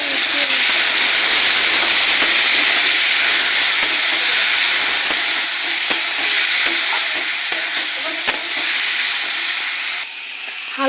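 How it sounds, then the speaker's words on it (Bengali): Vegetables for bati chorchori, seasoned with salt, turmeric and cumin powder, fry lightly in a pan with a loud, continuous sizzle broken by scattered clicks of stirring, then the hiss drops away near the end. "হালকা একটু ভেজে নিয়েছি"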